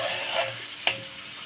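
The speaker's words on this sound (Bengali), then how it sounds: "এখন আমি ছেড়ে দেবো ভাজার জন্য।" Potato pieces frying in hot oil in a home kitchen for a Bengali katla fish curry, a steady close hiss of sizzling with a brief sharp clink partway through and no talking.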